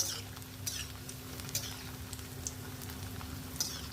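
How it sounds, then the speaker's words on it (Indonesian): Rengginang, glutinous rice crackers, frying in hot oil over medium heat, giving a steady close sizzle and patter with small crackling pops throughout and no talk. "Panasin dulu minyaknya dengan api sedang. Kalau sudah panas, baru kita masukin rengginangnya."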